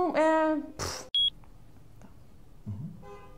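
A short, loud honk with a rich buzzing tone, followed by a quick high electronic beep, then near silence.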